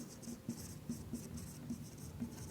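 Pen writing a sentence by hand on paper: soft, quiet scratching strokes in short repeated bursts, close up with a faint background hiss.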